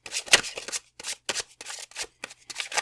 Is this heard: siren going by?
no